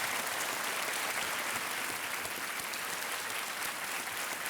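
Studio audience on the KBC quiz show keeps up steady, even applause, moderately quiet and continuous throughout with no talk over it.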